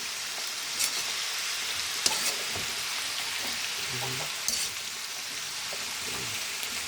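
Vegetables with green chili sizzle and fry in a pan of coconut-milk vegetable stew, a steady hiss broken by a few soft clinks and scrapes of stirring, with no one talking.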